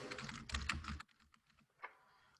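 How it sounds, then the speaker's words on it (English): Quick, close clattering on a computer keyboard for about a second, then a few sparse, fainter key taps. "I can type"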